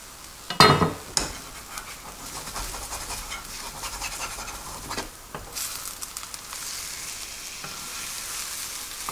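Spinach omelette frying in a pan, a close, continuous sizzle with a few loud scrapes and knocks early on and softer stirring noises later, no talking.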